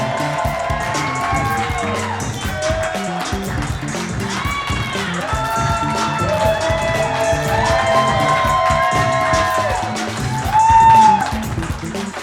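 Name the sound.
audience applause and cheering for guests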